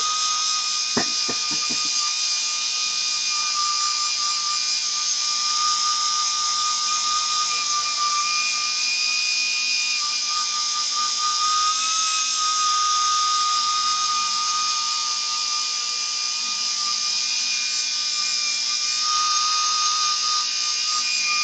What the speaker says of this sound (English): Sounds like a dentist drill.